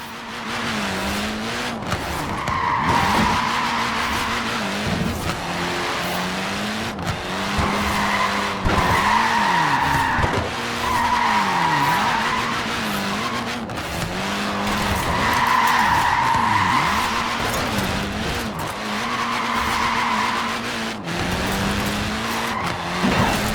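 A tiny car in Forza Horizon 4 skids repeatedly, its tires squealing in long wavering bursts over a steady engine drone, loud and close with no talk.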